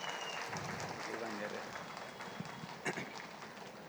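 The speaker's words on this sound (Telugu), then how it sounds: "అంత అద్భుతమైన పిరమిడ్ కట్టిన లక్ష్మణ్ రావు గారికి ఒకసారి మనం గట్టిగా చప్పట్లు కొడదామండి" An audience at a meditation gathering applauds Lakshman Rao for building a large pyramid, with dense, steady clapping filling the whole stretch as a voice carries on underneath.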